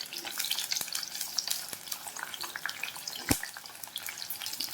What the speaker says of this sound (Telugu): ఇలా మీడియం ఫ్లేమ్లో పెట్టుకొని ఫ్రై చేసుకుంటే ముక్కలు బాగా ఫ్రై అవుతాయి